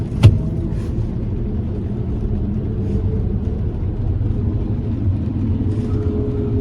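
A 2023 Chevy Traverse RS with a naturally aspirated V6 accelerating, a steady low engine drone under broadband road rumble that holds evenly throughout, with a brief sharp knock near the start.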